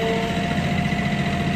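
A 50 horsepower tractor engine idles steadily, a continuous low rumble with a faint mid-pitched whine running through it, heard alone without talk.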